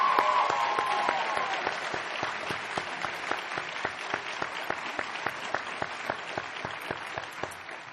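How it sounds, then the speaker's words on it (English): Students at a university forum applaud, a sustained round of clapping from a large audience that holds steady and gradually tapers, with distinct individual claps standing out near the end. "Give yourselves a round of applause."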